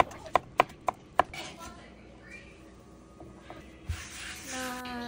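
A knife chops cucumber into small pieces for a tuna salad. Four crisp, evenly spaced cuts come close and loud at the start, followed by quieter kitchen handling noise.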